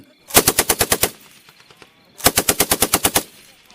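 Gunfire in a Thai radio drama: two loud, close bursts of rapid machine-gun fire, each about eight sharp evenly spaced shots, separated by a brief quiet gap.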